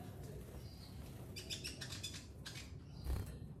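Short high chirps and tweets from a Kalimantan Konin bird, a few scattered calls over a steady background murmur, fairly close.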